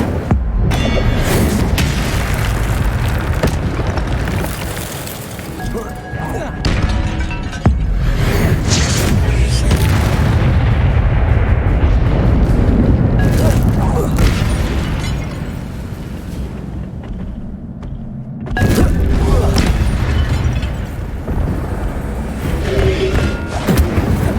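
The Incendio fire spell is cast in Hogwarts Legacy, with loud booming bursts and rumbling explosive roars amid dense game combat noise, broken by two short lulls.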